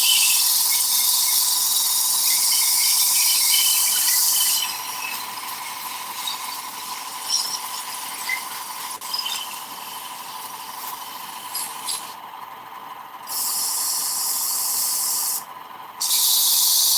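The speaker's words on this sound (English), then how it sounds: "I'm gonna run this on sandpaper the rest of the way down" A knife blade is sanded on a sandpaper grinder in a forge shop, giving a steady loud abrasive hiss and whine that runs on and off in long passes, easing to a lower grinding tone with short pauses.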